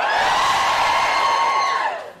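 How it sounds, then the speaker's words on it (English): Live comedy audience at a Russell Howard's Good News taping cheering and whooping loudly together, a dense sustained roar of many voices that fades out at the end. "Can you give me a cheer if you're a student?"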